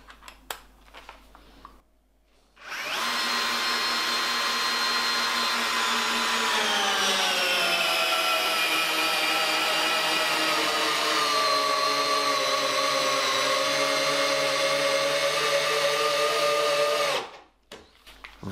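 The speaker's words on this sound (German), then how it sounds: "Wir probieren nochmal einen Härtetest. Eine 10x280er Schraube." A Bosch GSR 12V cordless drill drives a 10x280 mm screw, a steady high whine starting abruptly, its pitch dropping slightly as load builds, running for about fifteen seconds before cutting off cleanly.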